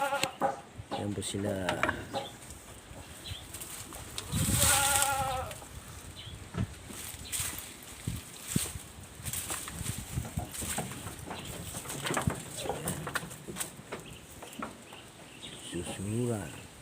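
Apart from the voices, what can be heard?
goats (bucks) bleating on a farm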